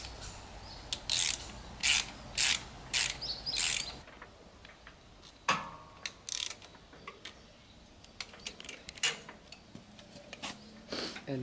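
Ratchet tightening the nut and bolt holding a tine on a PZ Haybob hay machine, several quick bursts of sharp clicking at the start, then sparser clicks and a few faint bird chirps outdoors.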